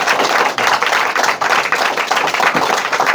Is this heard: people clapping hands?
yes